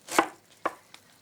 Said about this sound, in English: in a small bowl, I'll add some pineapple, fresh pineapple if you can. And we're just going to finely chop it.